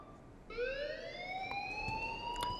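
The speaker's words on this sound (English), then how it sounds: "please turn off that alarm" An electronic fire alarm in the Life is Strange video game sounds after a short quiet lead-in: a loud, steady, high-pitched tone that climbs slowly and holds. It plays alone, with no voices over it.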